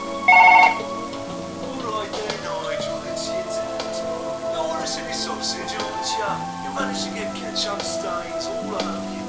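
A phone rings in the Surgeon Simulator video game: a short, loud electronic ring burst near the start, then fainter tonal chimes over a busy game soundscape.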